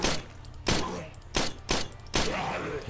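Five sharp gunshots from the video game State of Decay: Breakdown ring out at uneven intervals, each with a short metallic tail, loud and close.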